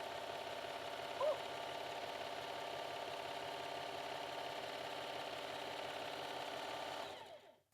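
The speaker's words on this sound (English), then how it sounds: "This machine is really fast. For a home sewing machine, it's super fast." Home sewing machine stitching at high speed, a rapid, even mechanical whir held steadily for several seconds at close range before stopping abruptly.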